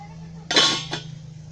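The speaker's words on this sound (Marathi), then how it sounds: "आता मी झाकण खोलते आहे." A metal lid comes off a pan of egg rava dosa with two quick clinks, a louder rattling one and then a lighter tap, over a low steady hum.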